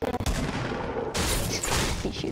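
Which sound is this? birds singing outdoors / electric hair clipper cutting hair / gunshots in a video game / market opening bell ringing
gunshots in a video game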